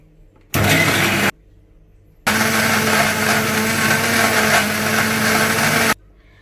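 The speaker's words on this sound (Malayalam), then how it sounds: "ഇനി നമുക്കിത് മിക്സിയിൽ നന്നായിട്ട്" Blender whirring through an avocado shake with condensed milk and ice: a short loud burst, a brief pause, then a longer steady grinding run of several seconds, close and loud before cutting off.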